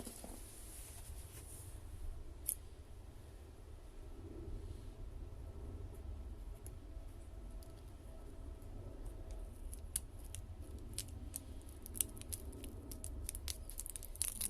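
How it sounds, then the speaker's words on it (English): Scissors cut open a plastic banknote package, giving soft repeated snips and crinkles, close but quiet over a low steady hum. "The ASMR sound of scissors."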